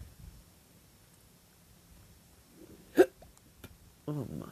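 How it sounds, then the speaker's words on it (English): A sharp hiccup from a player during a game of Among Us, one abrupt burst with a couple of smaller catches after it, over a quiet background before a voice starts speaking. "Oh my, these hiccups"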